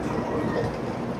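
Japanese bullet train standing at a station platform, a steady broadband rumble and hum of the train and platform ambience filling the moment, close and continuous with no talk.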